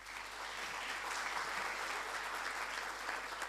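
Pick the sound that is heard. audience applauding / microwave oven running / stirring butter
audience applauding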